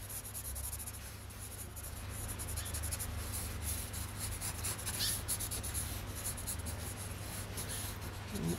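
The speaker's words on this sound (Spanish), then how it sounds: "dibujo con un lápiz o con un plumón, o también puedo calcar algo sobre la matriz" Pencil or marker drawing across a varnished woodcut block, a steady scratchy rubbing that continues for the full length at close range with no talk.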